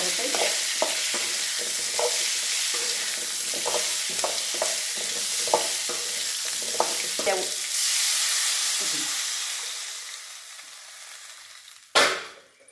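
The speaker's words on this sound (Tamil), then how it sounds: "இப்போ முருங்கைக்காயை போட்டு லேசாக ஒரு வதக்கினோம்னா நல்லா வாசனையாக இருக்கும் சாம்பார்" Drumstick pieces are sautéed in oil for sambar with rhythmic scraping strokes over a constant sizzle, which fades away near the end before a sharp clatter.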